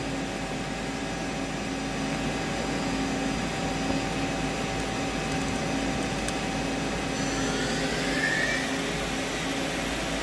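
A 2015 Doosan 3100LY CNC lathe with live tooling and Y-axis runs its spindle in a steady, quiet mechanical hum with faint whining tones, unbroken for the whole stretch and free of voices.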